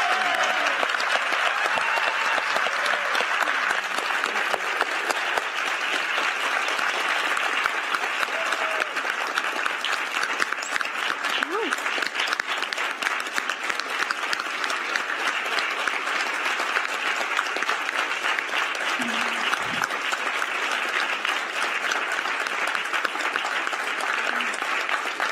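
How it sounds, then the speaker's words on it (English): A large audience at an education talk gives long, sustained applause, a dense and even wash of clapping that stays loud and steady for about twenty-five seconds without letting up. "let's give a huge round of applause to all of you."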